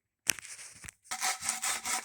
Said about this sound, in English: now on to finishing the sanding.